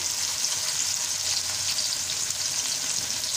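Onions frying in a pan with salt, browning lightly, sizzling steadily and loudly with a dense hiss that holds the whole time, no voices.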